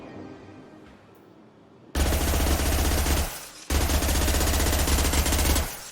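Loud, rapid automatic gunfire in Mass Effect 2 erupts after a quiet stretch, running in two sustained bursts split by a brief pause, close and dominant.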